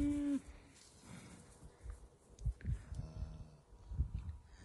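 Cattle in a field low faintly in the distance. A short moo sounds at the start, then soft, scattered animal sounds and rustling outdoor noise.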